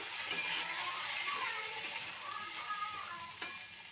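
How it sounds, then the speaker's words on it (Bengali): Yardlong beans and potato cook in mustard oil in a wok with a low, steady sizzle, broken by occasional spatula scrapes and a sharp clink near the start. "বরবটিটাকে ভেজে নেব"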